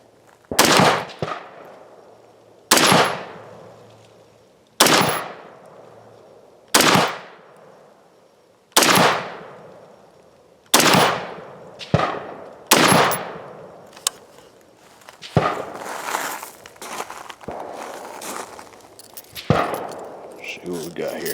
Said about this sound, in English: Now let me roll in some footage shooting with this brass catcher.